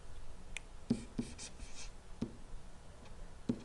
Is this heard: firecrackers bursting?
no